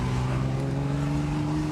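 Ferrari Daytona Spider V12 engine running on all twelve cylinders, a steady loud droning hum with a smooth even tone, close by and alone for under two seconds.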